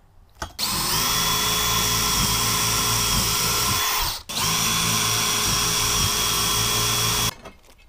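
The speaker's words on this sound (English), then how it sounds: "we're going to pre-drill holes for this right after that" A power drill whirs steadily in two long bursts pre-drilling holes into wood for a garage extension cord reel, with a brief pause between them, close and loud.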